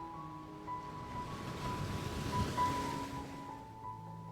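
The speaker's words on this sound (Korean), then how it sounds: "엘라는 산만한 파도 위로 떠밀렸습니다" Ocean waves and wind wash steadily around a small boat, a soft continuous surf rush with a faint low hum. Distant-sounding and even throughout, with no voices.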